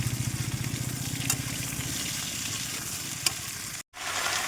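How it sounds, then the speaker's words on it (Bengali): Taro pieces frying in oil sizzle loudly and steadily, with a rhythmic scraping of a stirring spatula early on and a couple of sharp clinks, then a brief gap before the sizzle resumes. "আর এবার হচ্ছে কচুটা ভাজা করে নিচ্ছি"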